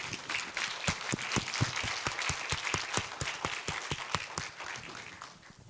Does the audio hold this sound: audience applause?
yes